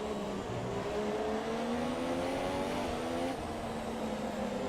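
Formula 1 race cars roar in the video game F1 2017, a sustained high engine whine climbing steadily in pitch through gear changes over a continuous rushing backdrop, with other cars close alongside.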